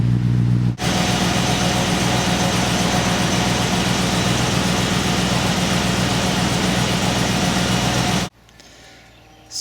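Engine of a 1978 Aston Martin V8 Vantage running at a steady, loud idle with an even low burble up close, cutting in abruptly and dropping away near the end.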